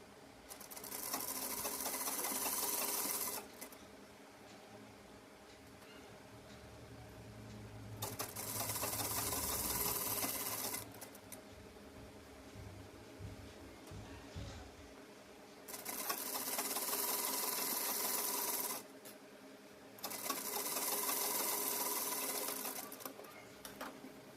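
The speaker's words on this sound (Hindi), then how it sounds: "कॉर्नर पे स्टिच करते हुए लेस को यहाँ पे अटैच कर लेंगे" Sewing machine stitching lace onto a trouser hem at the corner, in several loud bursts of rapid whirring separated by pauses, close and without talk.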